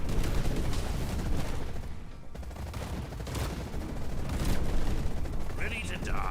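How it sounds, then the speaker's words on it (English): An aerial bombardment airstrike in the sci-fi RTS game Zerospace produces a dense, continuous barrage of rapid booms and gunfire-like blasts, loud and sustained from start to finish. "Commence aerial bombardment."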